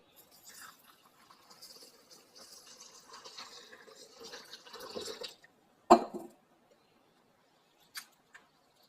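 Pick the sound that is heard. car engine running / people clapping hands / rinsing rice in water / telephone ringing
rinsing rice in water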